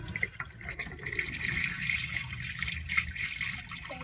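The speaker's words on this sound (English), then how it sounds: "we're just going to pour it down the drains enough to fill the traps" Undiluted winterizing liquid is poured down drains to fill the traps, a soft continuous trickle and gurgle of liquid running into a drain, close but fairly quiet, with no talking.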